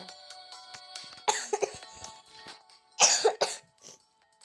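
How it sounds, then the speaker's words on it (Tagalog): Two bursts of coughing, close and fairly loud, a short single cough followed later by a harsher double cough, with quiet background in between. "Sorry, may ubo ako."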